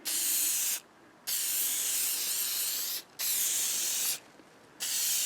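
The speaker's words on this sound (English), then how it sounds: "I've got some spray adhesive. I'm going to put it on the plastic, just on the edge here." Three bursts of aerosol spray adhesive hissing close by onto a plastic door panel sheet of a Mercedes-Benz W126 S-Class, each lasting one to two seconds, separated by short quiet gaps.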